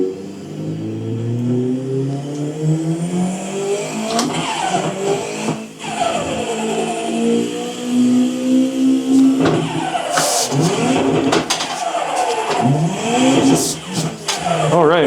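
A race car in a racing sim video game revs and slides through a corner, engine pitch sweeping up and down with tire squeal and skidding, loud and continuous throughout.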